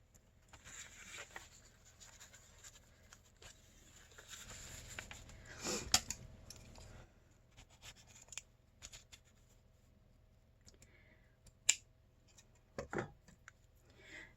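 Lace for a junk journal is cut with scissors, producing a few sharp, quiet snips scattered among soft rustling and handling sounds in a hushed room.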